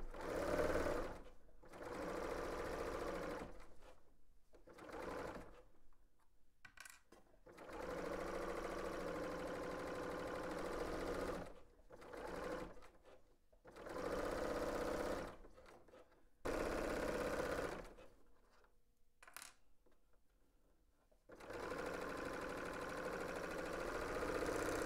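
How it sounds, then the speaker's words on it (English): A 4-thread overlock sewing machine runs in bursts while stitching side and shoulder seams on a garment at 5/8 inch seam allowance: a steady mechanical whir repeatedly starting and stopping with short quiet gaps, close and fairly loud, no talking. "we are stitching the side seam and the shoulder seams at 5/8 of an inch seam allowance. I am using a 4-thread overlock stitch."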